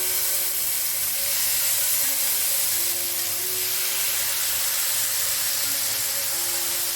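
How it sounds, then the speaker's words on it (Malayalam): Chicken tikka kabab pieces fry in an oiled pan over medium to low flame, giving a steady, close, continuous sizzling hiss with no talk. "ഒരു മീഡിയം ടു ലോ ഫ്ലെയിമിൽ ഇട്ടിട്ട് പിന്നെ ഒന്ന് തിരിച്ചു മറിച്ചൊക്കെ ഇട്ടിട്ട് ഒന്ന് ഫ്രൈ ചെയ്തെടുത്താൽ മതി."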